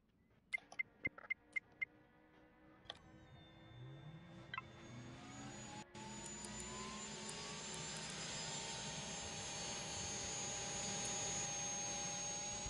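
A small plane in the Ultrawings 2 VR flight game taking off: a few sharp clicks, then the engine spools up into a steady, rising drone that grows louder and holds to the end.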